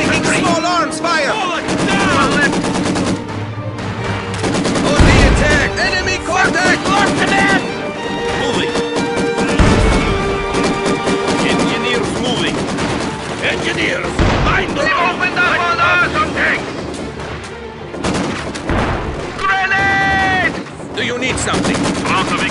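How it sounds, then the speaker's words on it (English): Small arms gunfire and machine-gun bursts in the World War II strategy game Company of Heroes 2, with loud repeated shots and battle noise running throughout, mixed with music and game voice callouts. "Taking small arms fire!"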